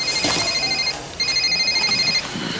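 A mobile phone rings with a repeating electronic ringtone, two bursts separated by a short pause, loud and close against a faint room background.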